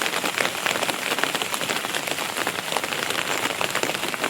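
Steady rain falls on trees and broad taro leaves in the Sundarbans, a dense, continuous patter of drops close by with no pause.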